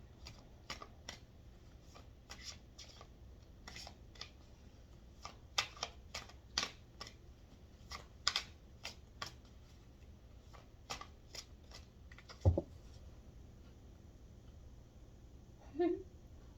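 A deck of cards is shuffled in quick riffling bursts, short crisp flurries recurring through the quiet, with one sharp louder clap near the end.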